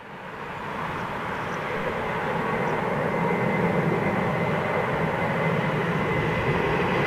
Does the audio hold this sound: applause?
no